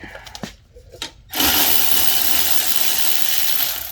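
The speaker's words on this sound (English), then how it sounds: "Quick socket change on my battery ratchet." A cordless battery ratchet on a 2019+ Sprinter 2500 front brake job spins up with a loud, continuous whir after a few short clicks and clatters from a socket change.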